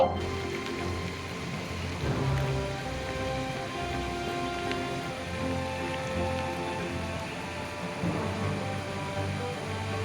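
Steady, dense heavy rain hisses continuously throughout, a broad wash of falling water with no voices and little change in intensity, near the flooding Aghanashini river.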